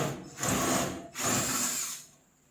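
Small quarter-inch power tool whirring on cowl plate screws of a 1970 Mach 1, two close bursts of high buzzing with a short pause between.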